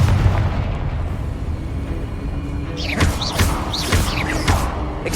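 Confringo fire-blast spell explosions in Hogwarts Legacy on PS5, a string of loud booming bursts and sharp pops over a dense rumbling battle backdrop, several blasts in quick succession near the end.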